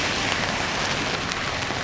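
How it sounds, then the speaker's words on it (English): Steady rain hisses densely on surfaces on a rainy, gusty day in New Orleans, a loud continuous wash with no pauses. "rainy day here in New Orleans with some gusty winds"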